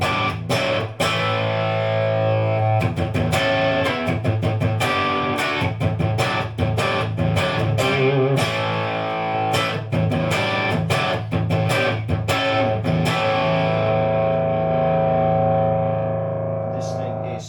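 Distorted electric guitar played loudly through a restored Kelly 50 guitar amplifier, dense chugging chords and riffs with choppy rhythmic stops, continuous for most of the passage before fading out.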